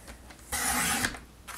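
A paper trimmer slices through cardstock in one quick rasping stroke lasting about half a second, close and fairly loud, with softer scraping before and after.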